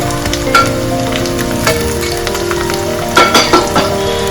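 Potatoes are tipped into frying onions in hot oil, sizzling and crackling loudly, with occasional bursts of spattering and a few soft knocks.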